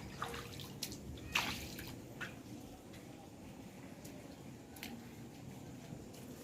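After heavy rain, water drips onto a flooded rooftop, with scattered faint drops and splashes over a low, steady background of water.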